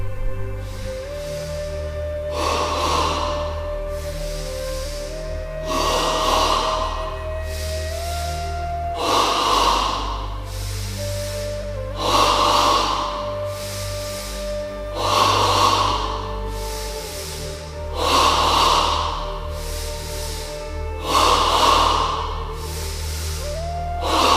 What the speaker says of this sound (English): Ready now for stage 1 of double breathing, 10 times in the abdomen.